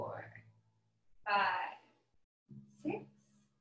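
Slow exhales during a guided breathing exercise come as three separate soft, breathy sighs, close and quiet, divided by silent pauses.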